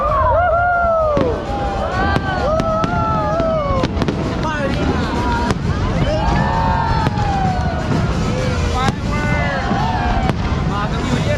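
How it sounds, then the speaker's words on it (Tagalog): Fireworks whistle, crackle and pop in rapid succession while a nearby crowd cheers and shouts, with excited voices mixed in throughout. "Woohoo! Fireworks!"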